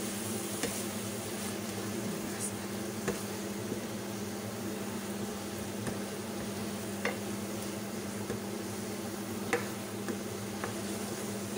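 Squid and onions sizzle steadily in a pan, a constant hiss broken by a few soft scraping clicks of stirring, close and alone without talk.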